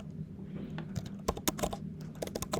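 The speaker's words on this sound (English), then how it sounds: "Customer then enters a file name to export their purchase history to" A file name is being typed on a computer keyboard, close and clear. The keystrokes come in quick irregular bursts and clusters over a low steady hum, with no voice.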